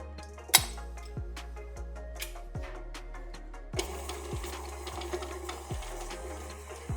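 Cream cheese and sifted icing sugar beaten with an electric mixer, a steady motor whir with rhythmic clicking of beaters against the bowl, close up and without talk, growing slightly rougher partway through.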